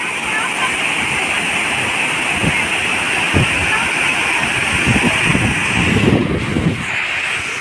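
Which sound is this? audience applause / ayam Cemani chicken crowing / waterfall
waterfall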